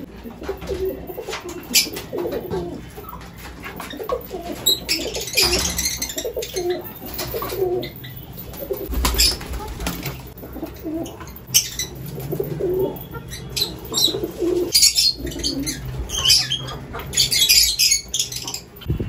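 Lovebirds in a breeding colony chirp and squawk nearby, a busy, continuous stream of overlapping calls with occasional sharper bursts and brief wing flutters.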